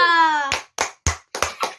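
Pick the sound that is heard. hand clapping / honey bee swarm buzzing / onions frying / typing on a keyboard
hand clapping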